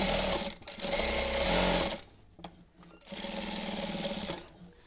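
A sewing machine stitches a jhura kantha quilt in two loud, close, rapid whirring bursts separated by a short pause.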